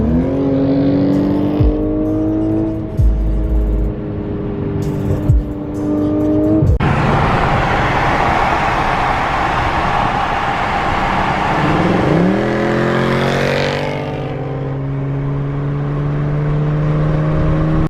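A Mercedes C63 AMG drives through Detroit traffic with a steady, loud engine drone, revs climbing and falling through gear changes, with sharp surges near the start and again toward the end. No one speaks.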